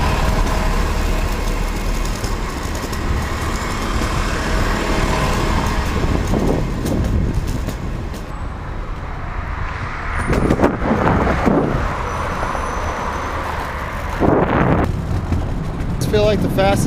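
Steady roar of cars and trucks passing on a main city road at rush hour, heard up close with wind buffeting the microphone and someone talking over the traffic.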